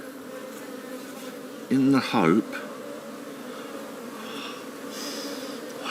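Honeybees at a top bar hive during inspection, a steady close buzzing drone throughout, with a brief spoken phrase in the middle.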